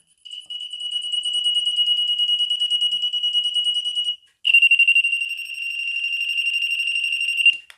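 High-pitched electronic beeping from an audible voltage tester held against a live wire at a light switch being replaced, a fast pulsing tone that runs steadily for about four seconds, pauses briefly, then resumes loud and close.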